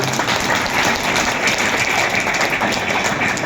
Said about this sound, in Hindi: तो पुनः आप लोगों के लिए एक बार जोरदार ताली।